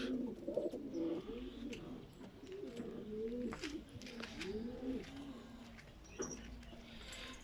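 Pigeons coo at close range in a loft, with repeated low, rolling calls overlapping one another against soft rustling.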